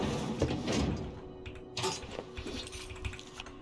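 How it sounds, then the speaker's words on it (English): A door in The Outer Worlds slides and clunks shut in a few short knocks and scrapes, moderately close, followed by quieter scattered clicks. "I'm gonna close the door."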